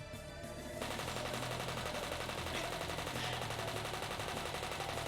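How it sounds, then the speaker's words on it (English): Continuous, fairly quiet machine gun fire from the visual novel Higurashi When They Cry, a dense steady rattle that swells slightly after the first second and holds unbroken to the end. "The sound of a machine gun made was a lot quieter than what people would imagine"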